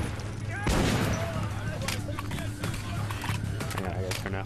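Gunfire in the video game Metro: Last Light, a rapid burst of shots followed by scattered single cracks and thumps amid game noise, with people talking over it.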